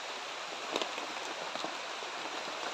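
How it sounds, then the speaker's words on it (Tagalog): Dense, steady heavy rain hisses all around a farm field, close and even, with a few heavier drops pattering through. "Uy, malakas na yung ulan."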